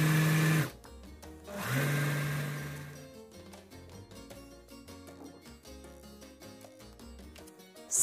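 A Singer sewing machine stitching fabric from an unused scarf or shawl for a crop top, a steady whirring motor run close by, broken by a few short pauses and restarts, with no talking.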